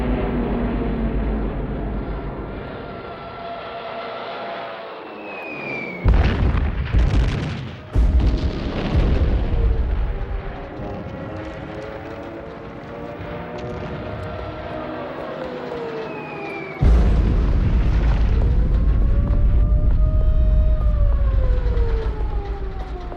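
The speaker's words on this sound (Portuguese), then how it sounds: "Em setembro, Hitler ordena o bombardeio de Varsóvia." Archival wartime sounds of the September 1939 bombing of Warsaw: sirens wail under heavy booming explosions and artillery fire, with loud blasts at several points and a continuous rumbling din throughout.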